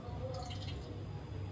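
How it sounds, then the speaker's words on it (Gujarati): Cooking oil poured into a heated pressure cooker that still held a little water makes a faint, soft liquid dripping and trickling, quiet and close with no talk. "પહેલાં આપણે જે કુકર છે એને મસ્ત તપાવવા દઈએ અને તેલ નાખી દઈએ"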